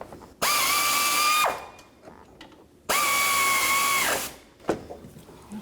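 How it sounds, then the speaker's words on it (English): A powered ratchet with a 12 mm socket snugs a bolt on the water pump of a 2006-2012 Toyota RAV4. Two close, loud whirring bursts of about a second each are separated by a pause, with a brief click and light shop noise afterward. "Then I'm going to snug the bottom one. That's a 12 millimeter socket."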